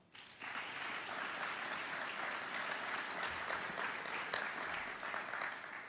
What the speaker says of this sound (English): Please give yourselves a round of applause.